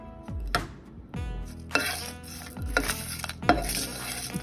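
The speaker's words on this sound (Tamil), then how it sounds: "இது கூட இப்போது கறிவேப்பிலையை சேர்த்துக்கோங்க." Curry leaves and green chilies hit hot oil for a Tamil raw-banana kola urundai, giving a close sizzle broken by four sharp metal spoon scrapes and clanks against the pan at regular intervals, with no voices.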